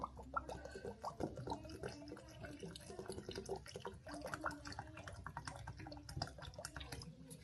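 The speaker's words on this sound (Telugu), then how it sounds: "సో నేను ప్రస్తుతం మిల్క్ అయితే లేదు కాబట్టి వాటర్ వేసేస్తాను." Water is poured onto oats in a quiet trickle, with uneven splashing and dripping close by, faint overall.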